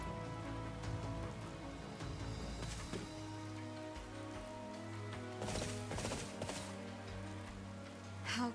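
Steady rain falls throughout a scene in the Fire Emblem video game, a dense even hiss under layered game music, with a few louder bursts of patter midway.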